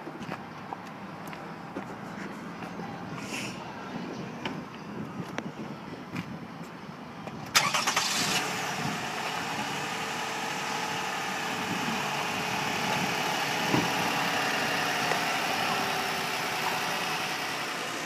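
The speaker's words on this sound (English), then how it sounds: "Go ahead and pop open the hood and start it up for you." 2009 Toyota Highlander engine cranks and catches about midway through, then settles into a steady, moderately loud idle hum after a quieter stretch of faint rustling.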